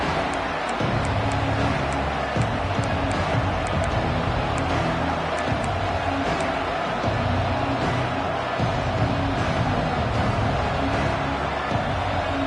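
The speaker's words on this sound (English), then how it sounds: "Listen to the crowd energy here in the early going." A football stadium crowd at an Oregon versus Notre Dame game roars in a dense, sustained wash of cheering and noise that holds steady throughout, loud and distant rather than close.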